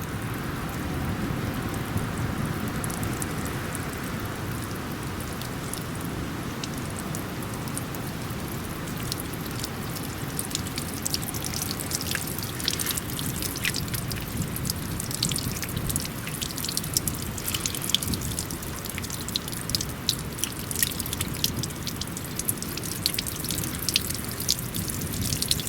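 Water drips and trickles steadily from the drained gearbox of an old, rusty Bucyrus Erie 10b cable excavator, a dense patter of close drops that grows busier over about twenty-five seconds.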